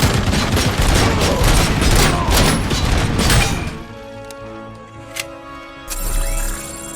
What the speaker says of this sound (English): That shooting never gets old